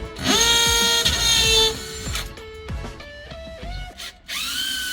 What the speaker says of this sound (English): About to be drilling pilot holes and sinking screws.